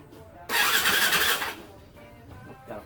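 A 2021 Yamaha YZ250F dirt bike with a freshly rebuilt top end starts with the choke on, a sudden loud burst of cranking and firing lasting about a second, then fading to quieter rattles.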